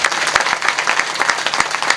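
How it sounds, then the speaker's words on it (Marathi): Listeners at a kirtan gathering in Akkalwadi applaud the sound system operator, producing a lively patter of many hands with sharp individual claps standing out, fairly close and steady throughout. "आणि जरा स्पीकरवाल्यासाठी टाळ्या वाजवा"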